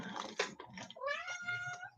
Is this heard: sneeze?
no